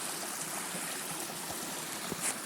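Rain-swollen mountain stream rushing steadily downhill after heavy overnight rain, a continuous close, full-bodied wash of running water with no voices.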